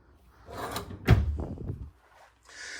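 Bedroom drawers in a 2026 Arctic Wolf 38LEAH fifth-wheel RV slide open with a soft rumble, then a louder wooden clunk and a further slide, followed by a faint hiss.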